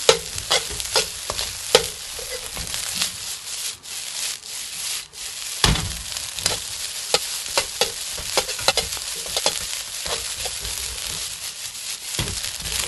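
Fried rice with pork lard stir-fried in a pan: close, steady scraping and tossing of a spatula over a dry sizzle, with frequent sharp clacks against the pan.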